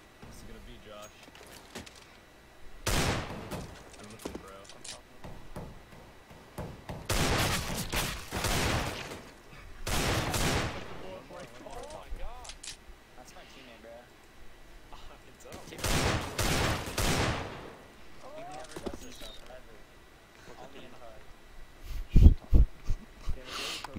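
Several loud bursts of Desert Eagle fire in a CS:GO Mirage pug match, an ace of all headshots, arriving in spaced clusters over steady background game noise, with a final sharp shot near the end.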